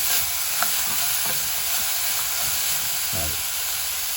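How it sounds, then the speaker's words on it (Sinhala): A spoon stirs beetroot curry in a hot pan, with steady frying sizzle and hiss underneath and a few scraping strokes against the pan, close and fairly loud with no talking. "හොඳට කලවම් කරනවා හරි"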